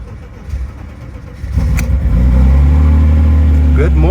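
A 1991 BMW E36 325i, long abandoned and under repair, cranks and catches, its engine settling into a loud, steady close-up idle hum; light talk and handling noises come just before it starts.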